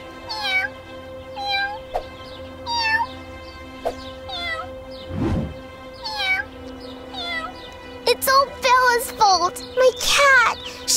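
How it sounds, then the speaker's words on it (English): Cartoon cat stuck high in a tree gives a series of plaintive meows, with rising and falling wails spaced through the passage and a burst of rapid cries near the end, all fairly loud and close. "My cat! She got stuck in the tree and won't come down!"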